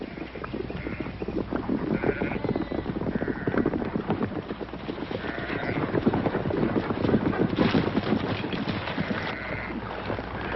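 A flock of sheep is driven through an old Western ranch setting, a dense shuffling clatter of hooves with scattered bleats, heard steadily at mid distance.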